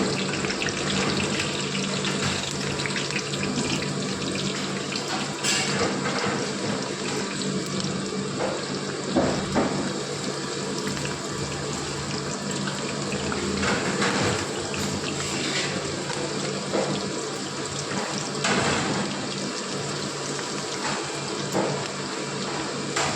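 Battered cauliflower pieces frying in hot oil give off a dense, steady sizzle that holds at an even level throughout, with no talking.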